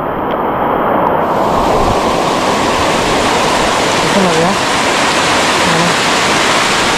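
Floodwater rushes loudly down a trail to Visapur Fort during heavy monsoon rain, a dense, unbroken roar close to the microphone, with faint voices briefly under it.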